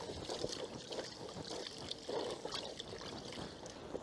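Water pours and trickles over fishing bait pellets in a bowl for tench fishing, giving a soft, continuous splashing and gurgling that stays close and fairly quiet throughout.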